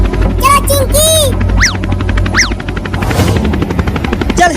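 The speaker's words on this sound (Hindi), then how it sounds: "चल हेलीकॉप्टर को उड़ा पायलट।" A helicopter lifts off in a cartoon comedy, a steady loud rotor chop and engine drone running throughout beneath chattering voices and short whooshing effects.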